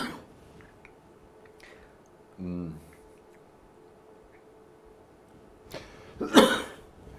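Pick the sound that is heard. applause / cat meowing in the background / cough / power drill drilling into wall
cough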